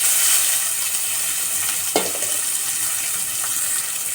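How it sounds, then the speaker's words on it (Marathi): Finely chopped onion sizzling in hot oil with mustard seeds, cumin and curry leaves, a steady bright frying hiss with a brief stir partway through, close and without talk. "कांदा तेलात टाकला की थोडंसं मीठ घालायचं, म्हणजे कांदा लवकर लाल होतो"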